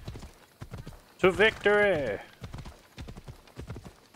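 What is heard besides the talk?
horse hooves in a video game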